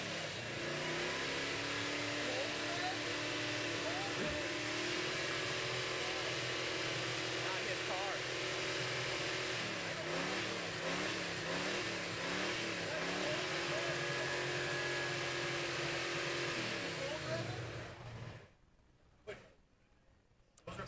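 A car engine runs close by at the Pikes Peak Hill Climb fan fest with repeated cold revs rising and falling over a steady idle, ending abruptly; a voice talks briefly near the end.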